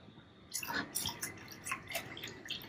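Coolant trickles and drips into the cooling system of a BMW M3/M4 (F80, F82, F83) while it is topped off: a quiet run of small, separate splashes and drips, close by, with no voices.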